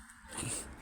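A street dog on Büyükada gives a brief, faint whimper outdoors, heard against steady background noise.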